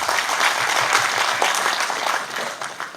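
An audience at a Constitution Day celebration speech in Patna claps, dense sustained applause filling the room and tapering slightly toward the end, with no speech over it.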